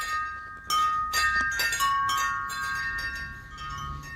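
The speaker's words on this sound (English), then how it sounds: "I like how all that happened was they touched chimes." Metal wind chimes ring out in a sudden cluster of bright, overlapping tones that sustain and shimmer, struck again a few times before fading, fairly close and heard alone without talk.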